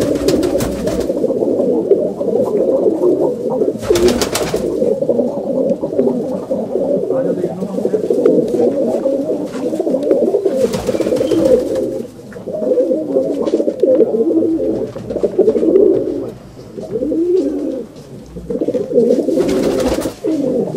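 Many pigeons in a fancier's pigeon loft coo together in a dense, unbroken throaty chorus heard close up, with occasional voices and brief noises in the background.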